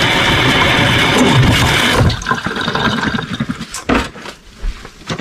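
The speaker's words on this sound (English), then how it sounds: "I'm just going to give those a little rinse." Grapes being rinsed under a running kitchen tap, a steady close rush of water that breaks into splashes and clatter as the flow is interrupted.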